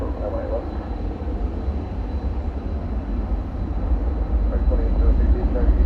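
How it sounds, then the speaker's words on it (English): A heavy Boeing 747 touches down at DFW airport at night, heard as a continuous low, loud roar and rumble that swells slightly toward the end, with voices talking underneath. "Heavy Boeing 747 touchdown."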